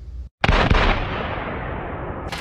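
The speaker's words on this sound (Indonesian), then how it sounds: "tapi Clay malah menembak Fadil." A single sharp gunshot in an action film scene cracks out loud and close, followed by a long booming tail and reverberant rumble that slowly fades.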